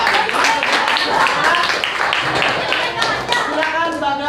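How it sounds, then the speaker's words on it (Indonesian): Schoolchildren in an elementary classroom clap for a group of classmates, loud, close and uneven, with a few voices and chatter mixed in. "Beri tepuk tangan untuk kelompok tiga"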